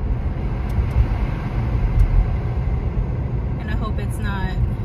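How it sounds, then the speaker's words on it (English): Steady road traffic rumble heard from inside a car, a dense low drone of passing vehicles with a faint higher whine near the end, continuous and moderately loud. "why is this traffic so loud today?"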